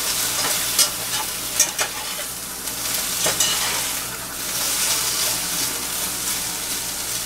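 Food frying in a cast iron pan, a loud steady sizzle with a few sharp scraping clicks from a utensil stirring and flipping it.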